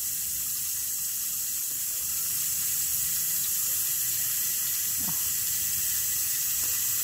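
Shower water runs steadily while a child is bathed at home, a constant close hiss of spray with faint splashes and no talk over it.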